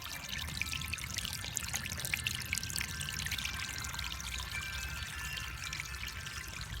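Water from a roof downspout pours steadily into a backyard container, a continuous trickling splash at close range, with no talking.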